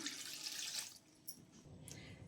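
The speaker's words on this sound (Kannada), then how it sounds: "ನೀರು ಸೇರಿಸ್ಕೊತಾ ಇದ್ದೀನಿ" Water pours in a short, steady splashing rush into fenugreek leaf dal seasoned with coriander powder, tamarind and garlic, then fades to quiet, faint cooking noise.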